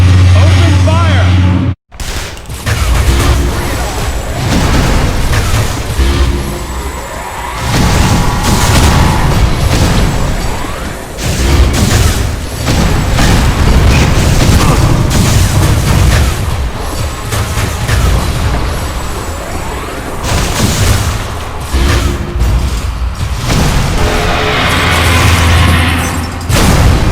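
Heavy gunfire and booming explosions from Metroid: Other M, loud and nearly nonstop, with voices shouting over the clamor of battle.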